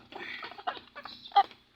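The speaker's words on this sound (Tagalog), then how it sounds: "Ito yung mga alaga kong manok" Several pet chickens being massaged by hand cluck and murmur close by in short, irregular bursts, with one louder squawk near the end.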